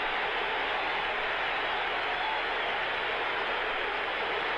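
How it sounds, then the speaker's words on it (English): Stadium crowd at the 1976 baseball All-Star Game, cheering as a broad, steady roar of hissing noise that holds constant at a distance with no distinct voices. "listen to the crowd cheering the Phillies in first place"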